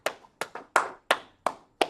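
A handful of sharp hand claps sound close and fairly quiet, seven distinct slaps spaced unevenly over about two seconds with silence between them.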